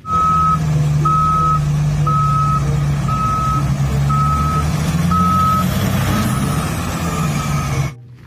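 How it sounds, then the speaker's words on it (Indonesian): A toy excavator sounds repeated reversing beeps, six evenly spaced tones, over a constant low motor hum. The beeps then stop while the hum continues, before everything cuts out. "Beko ekskavator, teman-teman."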